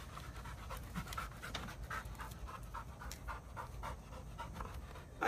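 A dog pants rapidly and rhythmically close by, quick breathy puffs repeating steadily without a break.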